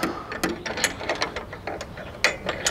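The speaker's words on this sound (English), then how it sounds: "and start tightening up. Get that bolt going into the uh, pre-welded nut right there." A ratchet tightens a bolt into a pre-welded nut on a motorcycle, giving a steady run of close, crisp clicks with no talking.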